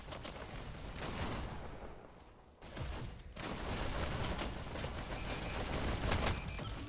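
Dense, continuous gunfire from a VR e-sports shooter match, shotgun blasts and rapid weapon fire layered into a loud, steady barrage with a brief lull near the middle.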